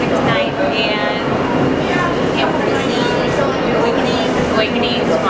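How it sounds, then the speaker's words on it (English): Steady rumble and hiss inside a moving train carriage, a continuous rolling drone with faint rattles, while people talk over it. "so we're on the big train"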